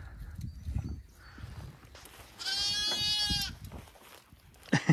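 Lambs bleating in a goat pasture, one clear drawn-out bleat rising in the middle and a sharper cry at the end, over low rumbling and scuffling ground noise.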